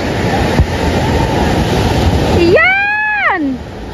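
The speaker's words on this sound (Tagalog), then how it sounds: "ang laki ng alon" Big ocean waves crash in a loud, continuous roar of surf, joined near the end by a rising and falling whistle-like tone.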